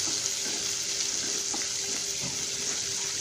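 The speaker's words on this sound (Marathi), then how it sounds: "आणि हा कांदा ब्राउन होईपर्यंत परतून घ्यायचा आहे तेलामध्ये" Onion frying in oil for masale bhat, a steady close sizzle running the whole time with faint scrapes and clinks mixed in, no voices.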